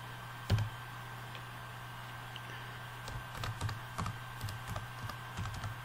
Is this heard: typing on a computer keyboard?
yes